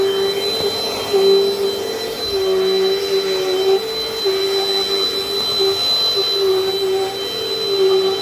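A Dirt Devil Dynamite Plus vacuum cleaner running steadily, a loud close motor whine with a sharp high tone over a rushing airflow hiss, unbroken for the whole stretch with no talk.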